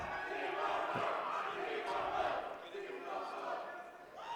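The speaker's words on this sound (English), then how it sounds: "And the crowd is cheering for Zach Anderson, Zebo Mo." A crowd cheers and roars steadily at a high school boys' basketball game between Discovery Canyon Campus Thunder and Air Academy Kadets, filling the gym for a few seconds.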